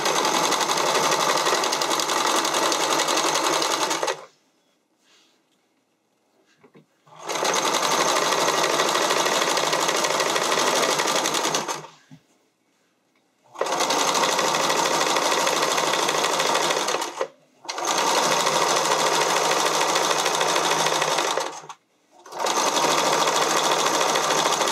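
Sewing machine running in long steady bursts while elastic is stitched onto the leg openings of briefs, stopping briefly between runs for repositioning, close and loud.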